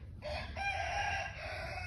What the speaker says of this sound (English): The roosters are crowing this morning